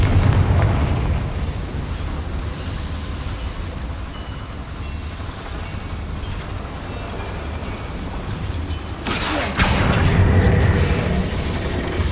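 A Confringo spell explodes in Hogwarts Legacy inside a small mine: a low rumbling boom fades into a long, steady ambient drone, then a second sharp burst hits near the end.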